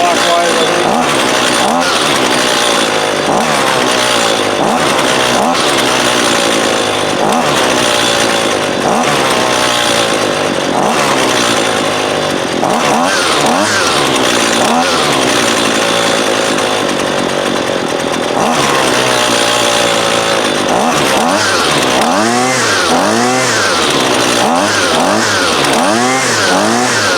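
A Husqvarna 128LD 28cc two-stroke trimmer engine runs loud and close throughout while its carburetor is adjusted, revving up and falling back in uneven swells with a voice talking over it.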